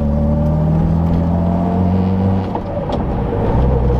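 A freshly repaired car on its first drive rumbles steadily at low speed with a deep engine hum and a slight change in pitch midway, close and loud with no voices.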